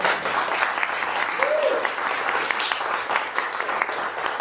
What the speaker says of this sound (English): let's go around with applause